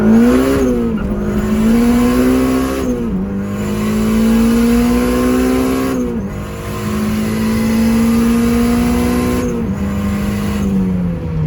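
A turbocharged K20 Honda Del Sol pulls away slowly in first gear with a loud, close, steadily rising engine drone. The engine note drops sharply at three gear shifts spread across the run, and nobody speaks.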